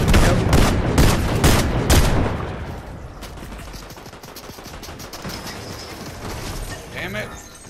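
Rapid bursts of gunfire in the video game Fortnite, loud and dense for the first two seconds, then fading to sparser, quieter shots and mechanical clicks.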